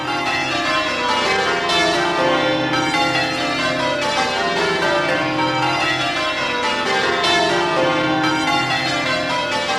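Church bells of St Mary le Bow in the City of London ring continuously, with dense overlapping metallic peals sustained and loud throughout, no voices present.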